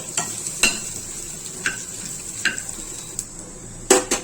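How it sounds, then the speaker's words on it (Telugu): Dry red chillies, coriander seeds and fresh coconut stirred while roasting in a pan for Andhra sambar powder, giving soft scraping stirs and light crackles in short irregular bursts, close and fairly quiet. "ఈ ఎండుమిర్చి ధనియాలు పచ్చి కొబ్బరి బాగా వేగిపోయినాయండి"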